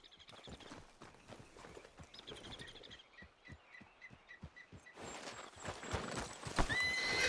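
Horse hooves clip-clop in a steady walking rhythm in the video game Red Dead Redemption 2, with a whinny and outdoor ambience swelling louder in the last few seconds.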